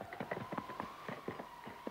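Horse hooves clip-clopping in an irregular trotting rhythm, a dozen or so crisp hoof strikes, moderately close and fairly quiet, with no talking.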